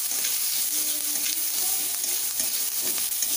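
Onions frying in a pan with turmeric, stirred now and then, give a steady close hiss with soft scraping stirs running through it. Nobody speaks.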